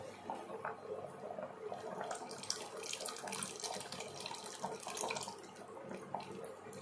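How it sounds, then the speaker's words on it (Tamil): Soaked tamarind water pours into a pot of cowpea kuzhambu, a soft continuous splashing and trickling stream, close and fairly quiet. "புளி ஊற வச்சு எடுத்து வச்சுருக்கிறேன் கரைச்சி எடுத்து வச்சுருக்கிறேன் இப்போ இதில் ஊற்றிக்கலாம்"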